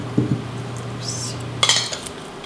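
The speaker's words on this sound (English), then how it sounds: "And stir it all together" Apples and walnuts being stirred into cooked, partly whole cranberries, with a spoon clinking and scraping against the bowl in a few short bursts over a low steady hum.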